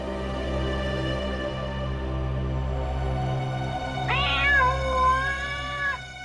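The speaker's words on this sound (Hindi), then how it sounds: "ये बिल्ली की आवाज कहां से आ रही है?" A cat gives one long, drawn-out meow, loud and close, over a low steady hum.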